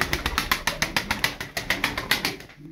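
Wings of a pale-colored play pigeon flap in a rapid, steady series of about a dozen sharp whooshing beats, close and fairly loud, with no voices.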